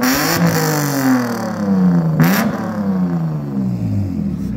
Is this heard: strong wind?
no